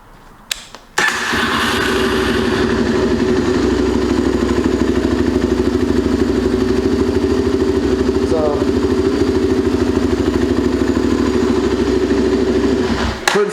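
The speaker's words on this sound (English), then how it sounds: "just letting it sit there and idle with the choke half on, with it idled up high, it's doing its magic" A 2004 Yamaha TT-R 250 dirt bike engine idles high with the choke half on, a steady close, loud putter running unbroken for over ten seconds after a brief quiet start, with no talk over it.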